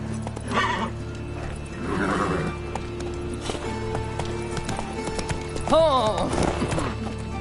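Horse in The Witcher video game, a loud whinny near the end amid clopping hooves, over continuous background ambience with a voice or two speaking.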